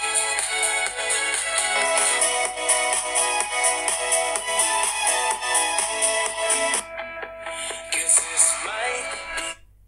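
A ringtone melody plays loudly through the loudspeaker of a Redmi Note 8 Pro phone. Dense tonal notes run continuously for about seven seconds, then thin into sparser phrases.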